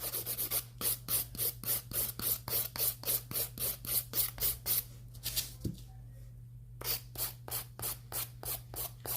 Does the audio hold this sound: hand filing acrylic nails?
yes